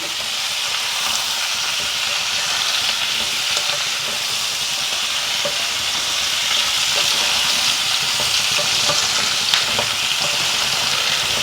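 Mixed vegetables with salt and turmeric, cooking for a kalagura pachadi, sizzle in a pan with a continuous loud frying hiss and faint stirring scrapes, no voices over it.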